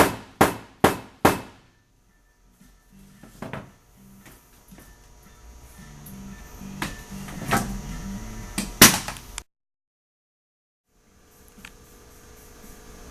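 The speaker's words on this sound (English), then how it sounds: "use your mallet to break that silicone" A mallet taps to break a silicone seal on track seating: four sharp, ringing knocks in quick succession, then scattered softer knocks and handling clatter. The clip ends in silence with faint background noise.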